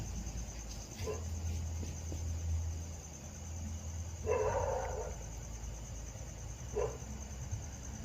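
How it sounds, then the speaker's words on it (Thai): A dog barks outside at night with crickets and insects chirping steadily, a few separate barks at a moderate distance, over a constant high insect drone. "ไม่ต้องเห่ามากนะ"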